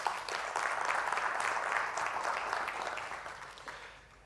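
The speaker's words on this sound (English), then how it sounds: "this really deserves a round of applause from the sector" Steady audience applause at an annual general meeting, a dense wash of clapping that holds evenly and fades out toward the end, with no talking over it.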